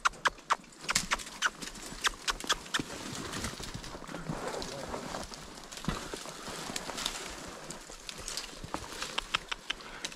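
Horse hooves clop steadily through dry brush, with crackling twigs and rustling branches between the close, distinct footfalls; a bird calls faintly.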